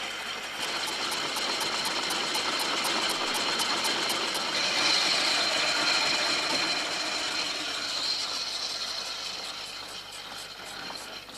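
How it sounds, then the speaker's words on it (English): An early American truck with a one-cylinder engine, a light motorized wagon on very light wheels, running at close range. It puts out a fast, even ticking chug whose level rises and falls a little as it runs, with no voices. "That's what a one-cylinder engine sounds like running."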